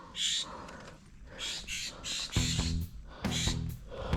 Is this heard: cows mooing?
no